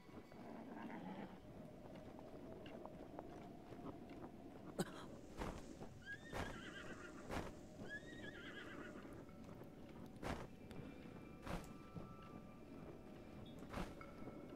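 A horse in Zelda: Breath of the Wild gives a couple of faint whinnies over steady game ambience, with clip-clop hoof sounds and scattered sharp clicks, no talking.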